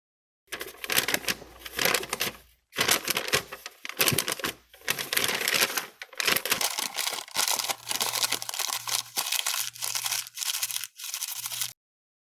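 Sheet of paper being handled and crumpled up close, a run of loud crinkling bursts separated by brief silent pauses, with no speech.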